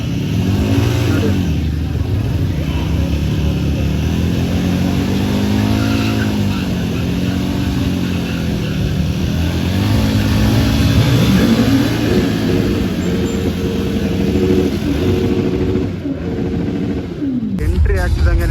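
Motorcycles rev and run continuously at close range during a braking training session at a World Motorcycle Day riding event, engine pitch rising and falling over steady crowd and speech noise.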